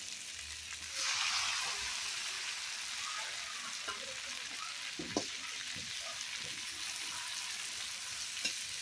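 Liver frying in a pan, village cooking: a continuous loud sizzle that swells after the first second, with scattered clinks and scrapes of a spatula stirring; no speech.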